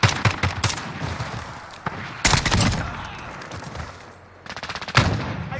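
Bursts of automatic rifle fire in Call of Duty Modern Warfare on the Sawmill map, sharp rapid volleys at the start, middle and end separated by quieter battle ambience.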